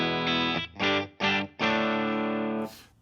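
Electric guitar run through a Guitar Rig 6 Tweedman 4x10 cabinet sim with distortion, playing four sustained chord strums with short gaps, the last ringing longest before a brief bright scrape at the end.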